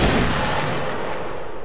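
Massed musket volley in a line-infantry battle game, a dense continuous roar of overlapping gunfire held at steady loudness throughout with no clear gaps.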